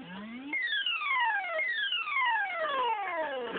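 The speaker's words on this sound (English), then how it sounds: "let's get to the tractor beam" Galaga tractor beam effect from the arcade video game: a rising electronic tone followed by a series of repeating descending synthesized sweeps, steady, bright and continuous, with no voices.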